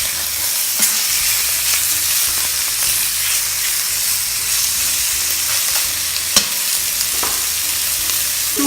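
Lamb pieces sear in a pot, giving a steady broadband sizzle and frying hiss with occasional stirring clicks and scrapes. No one speaks.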